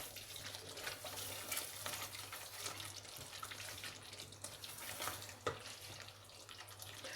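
Meat sizzles while being fried in ghee in a home kitchen as a faint, steady crackle throughout, with a few light clinks, and no talking.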